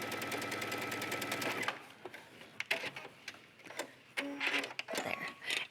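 A domestic sewing machine fitted with a number 11 jersey needle stitches an up-and-down leggings seam in stretch thread, running in a fast steady whir, then stopping to leave scattered light clicks and handling taps.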